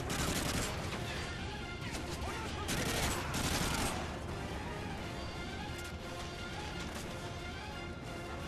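Rapid AK-74U bursts in Call of Duty: Modern Warfare 3, dense and loud throughout with heavier crashes near the middle, mixed with game battle noise.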